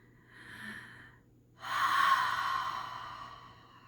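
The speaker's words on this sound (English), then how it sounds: "let's do something where we just make our breath sound really loud" A loud, deliberate breath drawn in through the nose and mouth during a children's Sunday school exercise, a softer breath first, then a longer, stronger inhale, close and alone with no talking.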